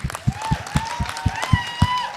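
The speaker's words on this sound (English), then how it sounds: "Give them a big round of applause." Audience applause at a youth summit stage event, heard as a steady rhythmic clap roughly every quarter second, like a hall clapping in unison, with a sustained tonal line running over the top.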